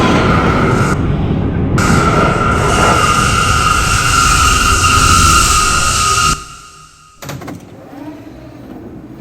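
A New York City R179 subway car on the F line roars along with a steady rumble and high metallic whine, then quiets as it slows. A brief door-like clatter and bump follow near the end.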